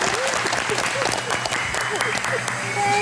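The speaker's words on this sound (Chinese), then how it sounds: "掌声欢迎" A small group claps briskly in a restaurant for a few seconds of steady applause, with voices talking over it.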